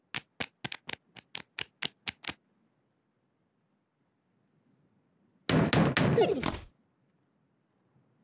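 Knocking on a door in a children's cartoon: a quick series of about ten sharp raps, then a pause and a louder clattering burst of knocks and bangs.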